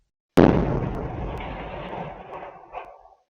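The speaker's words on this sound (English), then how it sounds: "A backyard security cam from a nearby apartment captured the sound of the blast." A condo explosion, picked up by a backyard security camera at a nearby apartment, begins as a single sudden loud blast and then fades into a long rumbling, echoing decay that lasts nearly three seconds, with no talking.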